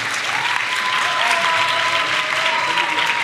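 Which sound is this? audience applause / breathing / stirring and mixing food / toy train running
audience applause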